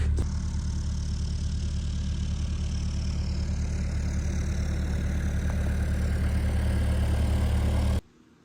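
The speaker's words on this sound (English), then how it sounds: "I brought the excavator inside to melt and defrost." An excavator engine idles indoors where it was brought in to melt and defrost, a steady low mechanical rumble that runs evenly and then cuts off abruptly near the end.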